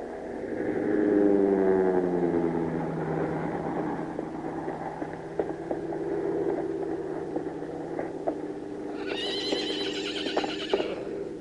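Herd of horses on a Western ranch, with a loud drawn-out whinny up front followed by rumbling hoofbeats and clip-clop, and a second high neigh near the end.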